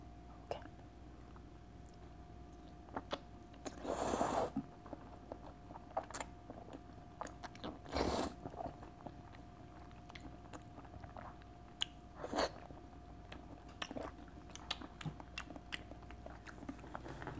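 Wet chewing and biting of raw salmon sashimi at a close, quiet table, with soft squishy mouth sounds spread through the clip and a few louder bursts now and then.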